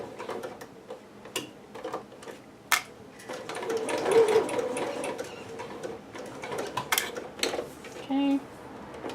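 A sewing machine stitches a seam on a Pikachu dress, running in steady bursts with ticking and small clatters close by, briefly louder toward the end.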